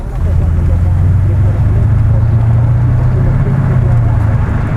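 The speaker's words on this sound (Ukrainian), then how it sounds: "наскільки приємне бурчання цього мотора" A deep, steady Mercedes-Benz CLS 55 V8 engine rumble holds a low droning tone throughout, loud and close, like a big motor idling or cruising.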